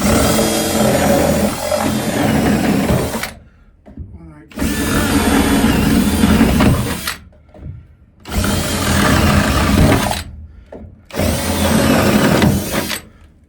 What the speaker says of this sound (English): we're going to drill a hole right here